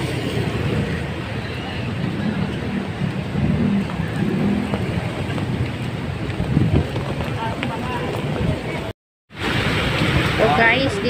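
Strong typhoon wind and rain in Metro Manila during Typhoon Kristine, a steady loud roaring rush buffeting the microphone, with a brief dropout near the end before the noise resumes.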